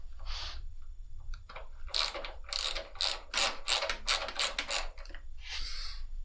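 A ratchet wrench clicks away at bolts on a Toyota Land Cruiser, rapid ratcheting strokes in a steady rhythm with short pauses, close and clear, no talking.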